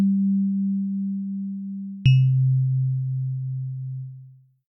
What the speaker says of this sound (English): it will just be a sine wave.